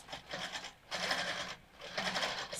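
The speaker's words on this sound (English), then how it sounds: "I'm gonna try to quilt straight across on those" A Handi Quilter longarm quilting machine stitches straight lines across an old quilt, running in two quick, whirring bursts with a short pause between them, close and clear, with no talk over it.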